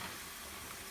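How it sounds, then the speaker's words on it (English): Shrimp fry in canola oil, giving a steady, dense sizzle and hiss that fills the short stretch with no voices over it. "We're just frying these in canola oil, I believe it is."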